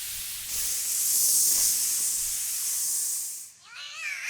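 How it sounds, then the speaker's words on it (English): A fine, sustained hissing spray of formic acid from black weaver ants' abdomens rises and holds for a few seconds, then cuts off, followed by faint high chirping. "a fine spray of formic acid fired out from the tips of their abdomens"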